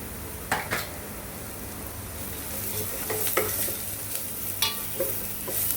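Vegetables and spices including turmeric, chili powder and coriander powder sautéed and stirred in a pan for a Marathi sprouted val bean and snake gourd dish, giving a steady sizzle with scraping stir strokes throughout.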